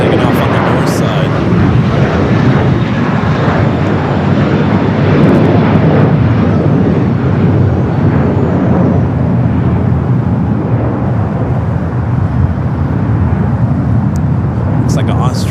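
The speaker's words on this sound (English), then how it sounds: "Flight taken off was American Airlines flight 3134 coming up from heading to Chicago" An American Airlines heavy jet takes off at LAX, a continuous loud rumbling roar running throughout while people talk over it.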